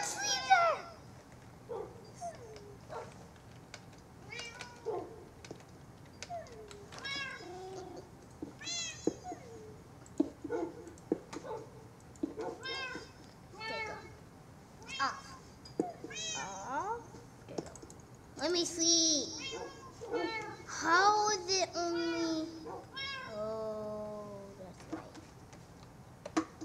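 Cats in the Minecraft video game meowing repeatedly, with many short, clear mews scattered throughout at an uneven rhythm and some overlapping, over a quiet background.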